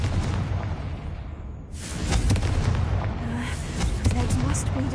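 In the Hogwarts Legacy video game, a Confringo fire spell lets out a sudden booming blast that ends a quiet stretch. Rumbling crackle and further bursts of impact follow.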